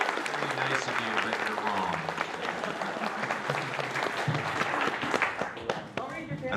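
Audience at a writers' panel claps and cheers steadily throughout, a dense roomful of applause with voices mixed in.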